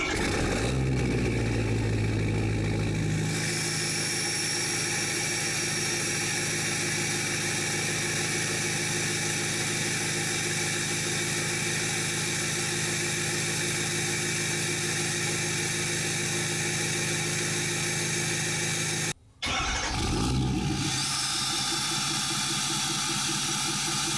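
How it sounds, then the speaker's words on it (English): A 2017 Ford F350 6.7 diesel truck with a straight pipe runs after a remote start, a steady broad rumbling drone that holds for most of the stretch, briefly cuts out, then resumes. "I'm going to remote start the truck and see what it is. This is with the straight pipe."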